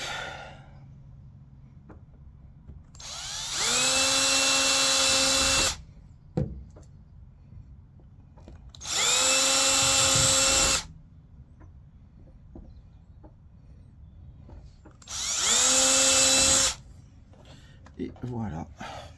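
A small drill bores holes into the corners of a piece during an equipment installation, whining in three separate bursts of a few seconds each, with quiet gaps between them.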